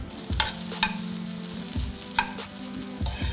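Carrots and corn are sautéed in a pan, giving a close, steady sizzle broken by several sharp scrapes and clinks of a spatula stirring.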